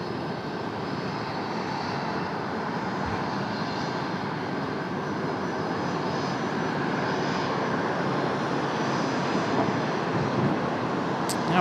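A fixed-wing airplane departing from runway 1 right, its engine a steady, continuous broadband roar that holds level throughout at moderate distance with no speech.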